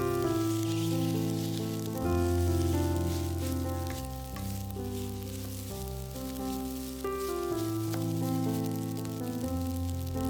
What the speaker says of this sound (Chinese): 直接把葱花放进来炒出香味。 再把米饭放进来，